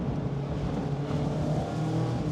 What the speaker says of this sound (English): lean into the throttle, a little bit of power oversteer